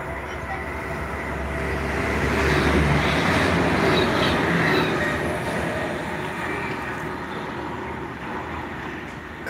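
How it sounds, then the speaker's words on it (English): A V/Line regional train pulls into a Melbourne station, its rolling rumble swelling and then easing as the wagons pass, with some wheel squeal and clatter heard up close and no voices. "Okay, we've got a V line coming in."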